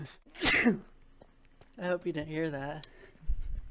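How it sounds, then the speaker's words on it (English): A single sharp, loud sneeze bursts out close up, followed by a person speaking briefly and a soft rustle at the end. "So this time I blessed your sneeze."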